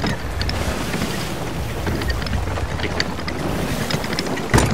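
A sailing ship in Sea of Thieves heads into the wind, with a constant loud rush of wind and water spray and occasional creaks and splashes. No one speaks.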